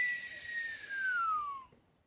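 A single clear descending whistle blown with the mouth open, high and thin, gliding downward for about a second and a half before cutting off, alone over quiet hiss.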